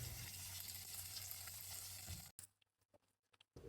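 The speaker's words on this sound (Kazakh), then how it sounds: "қызып тұрған майымызға салып қуыратын боламыз" Breaded chicken nuggets fry in hot oil with a steady, close, hissing sizzle that cuts off abruptly partway through, leaving a few scattered clicks and crackles.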